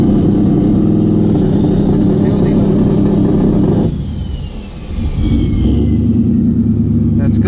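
A big single-turbo Ford Mustang S550 holds a loud, steady rev on a two-step launch limiter, dips briefly in the middle, then climbs back to a sustained drone, close and dominant.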